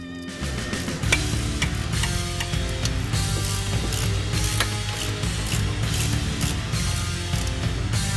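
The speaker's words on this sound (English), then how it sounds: "Now we're going to remove the 2 bolts in the back of the caliper." A ratchet wrench removes the rear caliper bolts on a 2015–2023 Ford Mustang during a coilover suspension install, with rapid, loud, close clicking held fairly steady throughout and no talking.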